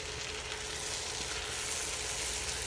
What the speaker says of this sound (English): We'll let that all saute and the flavors melt together a little bit here